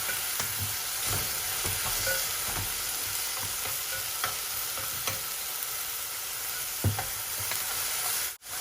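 Onion frying in a pan with salt, a continuous sizzle punctuated by occasional stirring scrapes and clicks, fairly close, with no talking and a sharp knock at the end.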